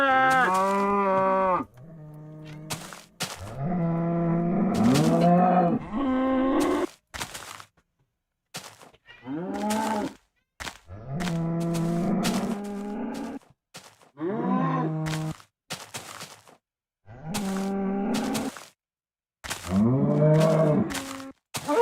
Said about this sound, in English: That baby cow sounds horrible.